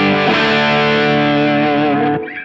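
Electric guitar played through a Kingsley Jouster overdrive pedal, a dense, sustained distorted chord ringing loud and close for about two seconds before cutting off, with no talking.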